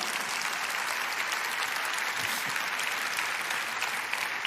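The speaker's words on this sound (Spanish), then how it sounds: "Dale un aplauso al Rey." A church congregation gives sustained, dense applause, a broad even roar of clapping hands that holds steady throughout with no voices over it.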